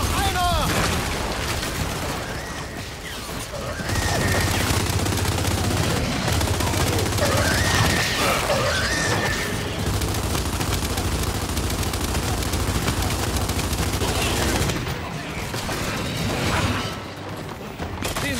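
Dense, continuous gunfire and mechanical clatter from shooting enemies in the game Gears 5, loud and sustained throughout with heavy low rumble, briefly easing near the end.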